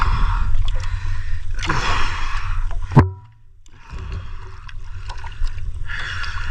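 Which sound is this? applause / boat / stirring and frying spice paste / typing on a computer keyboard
boat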